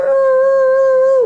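A human voice imitates a howling dog, giving one loud, steady, sustained howl at close range that drops off at the end.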